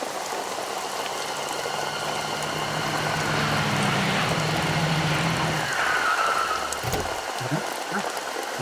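Steady rain falls throughout, a dense broadband patter on surfaces that stays even and moderately close, with faint low hums and a few brief knocks near the end.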